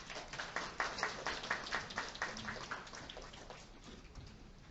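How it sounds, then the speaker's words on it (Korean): A small audience claps to welcome the Dalseo district mayor at a university admissions strategy briefing, a faint, thin patter of hands that peaks early and gradually tapers off. "큰 박수로 환영해 주시면 감사하겠습니다."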